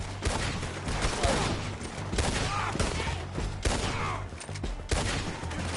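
Rapid, dense artillery and gunfire in the Red Dead Redemption 2 video game, a continuous barrage of loud overlapping blasts with sharp repeated cracks throughout.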